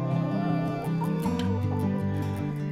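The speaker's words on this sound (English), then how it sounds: "So we think we've got two cockerels." Several cockerels, mixed-breed young roosters on a small homestead farm, clucking and calling continuously in a busy, overlapping chorus, close and fairly loud, with no talking.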